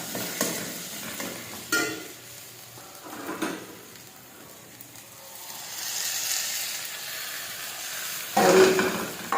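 Melon seed paste going into a prawn malai curry in a pan, heard as a few scattered scraping stirs and clatters over a low sizzle, with quieter stretches between.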